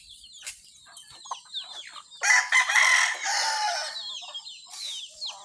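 Chickens cluck and chirp close by, one of them sick, with a rooster's crow rising loudly in the middle among smaller peeping calls.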